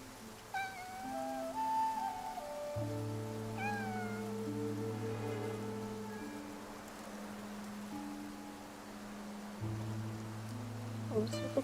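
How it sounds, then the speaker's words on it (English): Meowing from a cat in the video game Infinity Nikki, several clear mews over a steady musical background, with light rain-like texture underneath and no talking. "Nikki, that cat that just passed by stopped making any sound."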